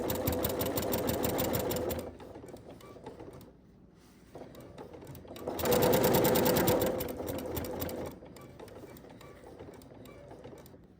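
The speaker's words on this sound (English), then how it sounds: "I'm gonna take a stitch, then I'm just gonna take a back stitch. Okay, and then we're just gonna slowly go around our quilt sandwich" Close, rhythmic whirring and clattering of a sewing machine stitching around a baby quilt sandwich, with a short stitch, a pause, then a longer steady run that fades toward light mechanical ticking.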